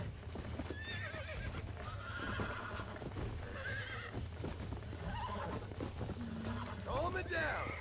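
In the Red Dead Redemption video game, a horse whinnies several times over steady clip-clopping hooves, with someone talking throughout.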